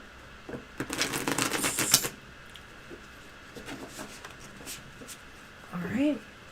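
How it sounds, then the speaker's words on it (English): A deck of tarot cards being shuffled: a dense, crisp burst of rapid riffling flutter for about a second, then softer scattered card sounds, with a brief voice at the end. "All right. Shuffle."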